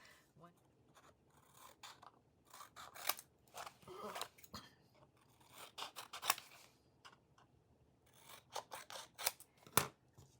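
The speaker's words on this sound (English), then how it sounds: "we're going to need to cut all 4 of the corners at a 45-degree angle" Scissors cutting the corners of bookbinding cover paper at a 45-degree angle, heard as a run of close, sharp snipping and rasping strokes in irregular bursts, with soft handling rustle between cuts.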